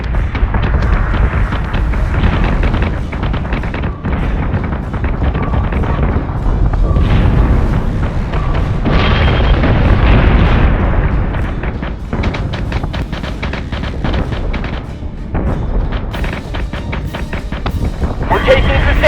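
Sustained weapons fire from a space battle in Battlestar Galactica Deadlock: a dense, continuous barrage of booming, explosive blasts that rumbles without pause for the whole stretch, loud and close, with no clear gaps between impacts.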